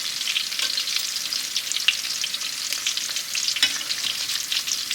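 Kataifi-wrapped shrimp frying in hot oil give a steady, dense sizzle with crackling pops throughout, close and continuous with no talking.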